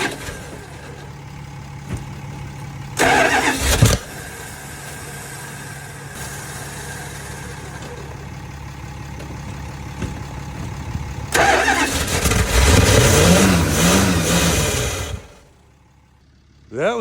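A first-generation Dodge truck's engine being cold-started, with two bursts of starter cranking, the second catching briefly into a rough, rising engine roar before cutting off into near silence, over a steady low hum.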